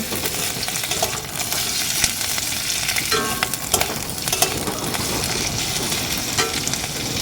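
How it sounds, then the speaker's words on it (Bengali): Onion, carrot and capsicum frying in a pan give a steady, close sizzle with scattered stirring scrapes and clicks throughout, no voices. "এবার আমি এর মধ্যে গাজর আর ক্যাপসিকাম দিয়ে দিচ্ছি সমস্ত সবজিগুলো আমি হালকা করে ভেজে নেব"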